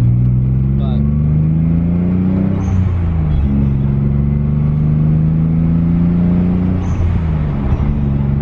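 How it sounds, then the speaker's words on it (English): Nissan 300ZX fitted with an HKS exhaust and blow-off valves, engine droning loud and close with rising and falling revs, while someone talks over it. "Just really, overall, it's a great exhaust note,"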